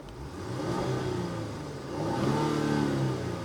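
A Genesis GV80 Coupe engine revs in comfort mode, its smooth mid-pitched roar swelling in two rising pushes, heard from up close with no talking.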